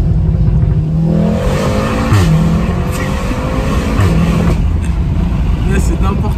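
A Volkswagen Golf 7R with a Stage 1 tune rated at 350 hp revs loudly, its engine note rising and falling in sweeps with exhaust crackle, while people talk over it.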